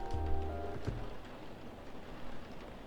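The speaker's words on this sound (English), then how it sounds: "Ah, the rain noises." Steady rain ambience from the video game Coffee Talk, a soft continuous patter over a faint tonal game sound that fades early, with no talking.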